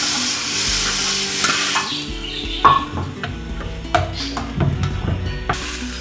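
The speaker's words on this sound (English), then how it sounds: "And we have added the tadka into our saag. Mix the tadka well." Tadka sizzles loudly in a pan while a spoon stirs it through mustard-leaf saag, with steady frying hiss and scraping clinks close up.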